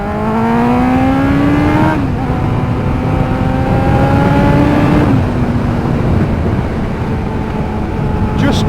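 A Kawasaki ZX9R motorcycle engine drones loudly and steadily while riding at an easy pace, its pitch stepping down twice as the rider shifts gears, with wind rush underneath throughout.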